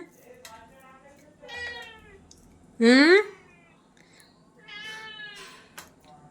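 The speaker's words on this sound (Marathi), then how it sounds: "आमच्या म्याऊला पाहिजे दूध" A cat meows several times close by, one call loud and drawn out, with quieter mews before and after.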